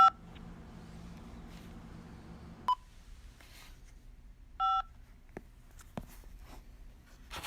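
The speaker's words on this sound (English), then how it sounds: "Say or dial 5 now." A telephone keypad DTMF tone dialing 5 to accept a collect call on a prison phone line: one short, clear beep in a quiet line, with a few faint clicks and scratches around it.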